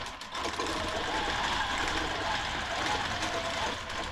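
A sewing machine stitches a quilt for a quilted wall hanging, a steady, loud, continuous mechanical whir running without pause throughout.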